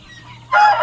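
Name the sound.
free-range laying hens clucking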